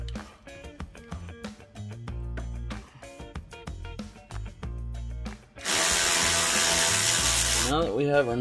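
A ratchet or power tool works a 14 mm nut loose on the strut of a 1996–2000 Honda Civic, with a choppy run of bursts giving way to a loud, steady, harsh whir near the end.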